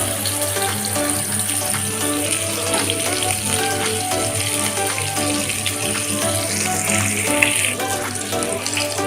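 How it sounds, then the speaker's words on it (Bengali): Pointed gourd (potol) pieces fry in hot oil in a pan for a mustard potol dish, giving a loud, steady, dense sizzle that runs unbroken throughout, with no voices. "একটু সেক লাগিয়ে এদিক ওদিক করে উল্টিয়ে আমরা চারদিকে ভেজে নেব"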